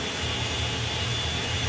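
Jet dragster engine at Santa Pod Raceway drag strip, a loud continuous roaring whine with a steady high tone on top, filling the whole moment without any talk.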